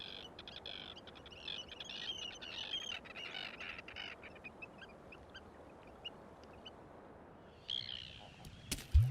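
A colony of eider ducks in Iceland calls at moderate distance, overlapping cooing and chattering notes, ending with a sudden loud knock close to the microphone.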